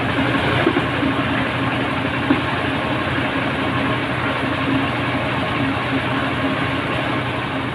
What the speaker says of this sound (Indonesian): Mesin ini khusus menggiling.